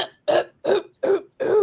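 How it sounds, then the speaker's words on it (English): A man clears his throat four times in a row, short rough bursts spaced evenly with brief pauses, close and loud with no speech around them. "Let me clear my throat."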